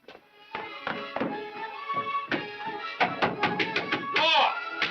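Knuckles rap on a bedroom door in repeated quick bursts of hollow knocks, fairly close, with a shouting voice rising over the later knocks.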